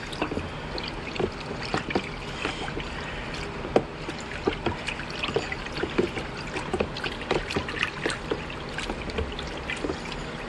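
Fabric dye being stirred in water for a curtain, with continuous sloshing and trickling splashes and scattered louder swishes throughout, fairly close and steady.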